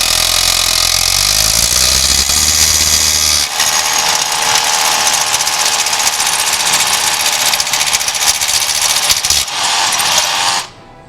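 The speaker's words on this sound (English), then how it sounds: "Gotta drill at a little bit of an angle, but just gotta start slowly and let it cut into the steel" A power drill whines loudly and continuously as it bites into steel at an angle while fitting a Hilti fire stopping collar. A rising motor hum at the start settles into a harsh grinding cut that stops abruptly near the end.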